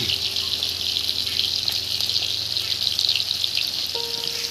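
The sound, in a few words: frying food for potato egg curry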